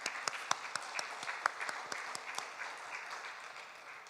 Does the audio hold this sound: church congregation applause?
yes